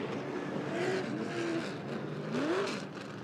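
NASCAR late model race cars at Rockford Speedway, a continuous distant engine roar with rising and falling revs as cars circle the oval, alone and fairly faint.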